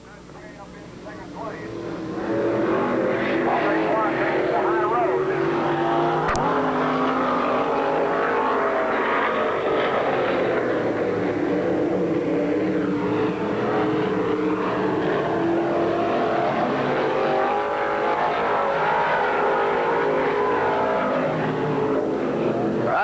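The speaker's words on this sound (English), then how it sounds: "4th place, car 45, Chuck Owens." Race cars roar around a track in a continuous, loud engine drone that blends several cars at once, while an announcer calls out the running order over the noise.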